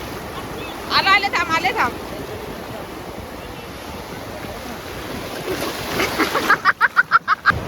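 Sea waves wash onto Talashil beach in steady surf noise, with wind buffeting the microphone and short bursts of nearby voices at the start and end.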